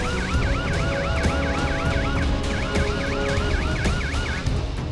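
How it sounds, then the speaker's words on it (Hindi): A wailing security-forces vehicle siren sweeps up and down repeatedly over a steady rumble of traffic, loud and continuous, with a brief gap near the end. "सुरक्षा बलों की गाड़ियों के सायरन का शोर दूर तक सुनाई देने लगा।"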